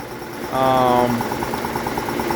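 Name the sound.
Saylor-Beall air compressor running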